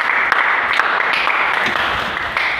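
A church congregation claps and cheers loudly together, a dense, steady wash of applause with scattered sharper claps throughout, close and full.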